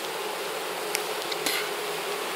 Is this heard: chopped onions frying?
no